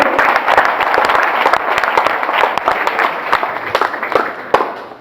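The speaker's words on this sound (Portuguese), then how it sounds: "Pode dar uma aplauso" A church congregation breaks into loud, close applause, dense overlapping claps with sharp individual hand strikes standing out, sustained for about five seconds before tapering slightly at the end.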